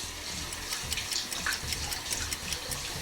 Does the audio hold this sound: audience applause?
no